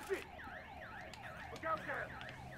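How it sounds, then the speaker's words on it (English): Alarm blaring in Battlefield Hardline, a repeating rising-and-falling siren-like wail cycling steadily and loudly over low game ambience, with no talking. "An alarm just went off."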